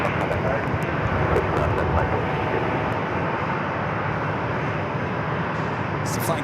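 An Airbus A350-900 airliner on short final into San Diego airport, arriving from Munich, a steady loud broadband engine roar that fills the whole stretch, with faint radio-style voice chatter mixed in underneath.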